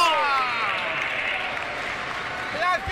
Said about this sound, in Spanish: La gente aplaude, Flamita.